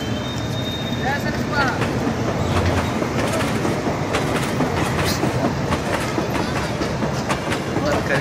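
A train passes close by on a railway in India with a loud, continuous rolling rumble and rhythmic clickety-clack of wheels over rail joints throughout.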